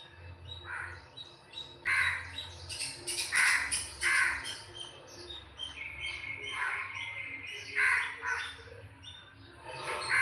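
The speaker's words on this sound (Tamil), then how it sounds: "வெளியில் வந்தால் உள்ளே இருந்தாலுமே காக்கா குருவி சவுண்டு கேட்கும்." Several crows caw repeatedly outdoors, harsh calls coming in irregular bursts at moderate distance, with faint chirping birds in the background.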